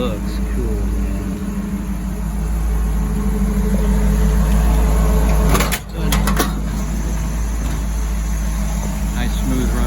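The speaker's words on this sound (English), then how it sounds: "Nice smooth running motor." A 1951 Chevy 3100 short-bed pickup with a small-block V8 runs at a smooth, even idle. The steady rumble is close and continuous, with a couple of brief clicks midway.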